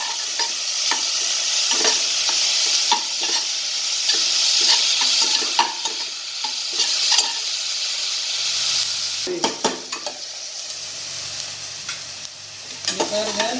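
Ginger, garlic, curry leaves, green chillies and onion sizzle steadily in hot oil for vada curry, with a spoon repeatedly scraping and stirring through the pan in clear, close bursts.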